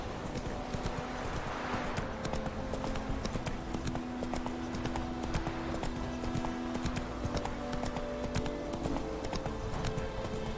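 Roach the horse gallops in The Witcher 3, a steady, continuous clip-clop of hooves running throughout with game music and ambience layered underneath.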